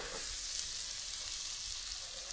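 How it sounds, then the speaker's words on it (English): Onions cooking down slowly on low heat toward caramelized, a faint even hiss of frying throughout with no distinct stirring strokes. "I want these onions to caramelize and get nice and soft and sweet and brown"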